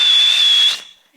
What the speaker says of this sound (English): You whistle and your pony comes running to the corral for you?